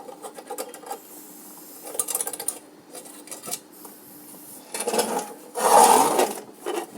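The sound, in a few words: removing retaining spring from old weight scale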